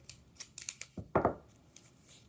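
Scissors snip through a piece of tape in a few quick, close cuts, ending in one louder, fuller snip, with no talking over it.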